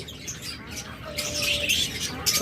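A big-sized lutino cockatiel pair lets out harsh squawks and chirps. The calls come in short bursts that grow louder in the second half, over a steady low background noise.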